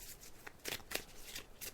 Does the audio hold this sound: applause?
no